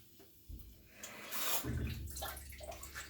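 Water poured into a pan of soaking oats on the stove, a short splashing pour that swells then trails off, close and alone.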